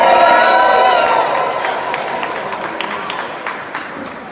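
A crowd at an outdoor cannabis rally cheers and whoops loudly, with scattered clapping that fades down over a few seconds.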